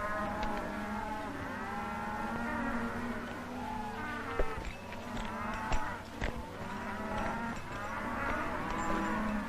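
Cattle in pens moo repeatedly in long, drawn-out calls over a steady farmyard background, with flies buzzing throughout and a few sharp knocks partway through.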